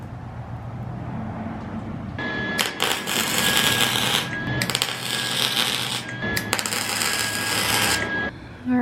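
Welding onto a damaged, rusted lug nut on a Honda Civic Wagovan, a steady crackling, sizzling arc running in two long bursts with short breaks, close and loud over a constant low hum.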